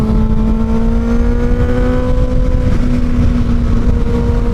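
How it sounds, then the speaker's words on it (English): A Kawasaki Ninja ZX6R 636 middleweight sport motorcycle engine pulls steadily under acceleration, a loud continuous drone with a smoothly rising pitch, close to the microphone and with no voices. "as the bike is picking up power, it just keeps stacking power"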